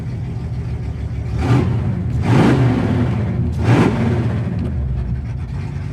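A 1976 Pontiac Trans Am engine with open exhaust cutouts revs up three times in quick succession, each rise and fall loud and throaty over a rumbling idle, close by.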